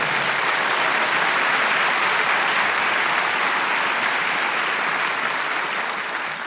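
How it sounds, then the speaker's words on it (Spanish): Loud, dense applause from a church congregation, a continuous wash of clapping that fills the whole stretch at an even level without any speech. "Dele ese fuerte aplauso"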